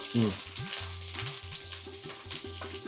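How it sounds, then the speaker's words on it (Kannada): Green chillies and curry leaves fry in hot oil with urad dal and chana dal, a close, lively crackling sizzle that starts with a sharp burst and then keeps sputtering steadily. "ಸ್ವಲ್ಪ ಕಲರ್ ಚೇಂಜ್ ಆಗೋವರೆಗೂ ಫ್ರೈ ಮಾಡ್ಕೊಳ್ಳಿ"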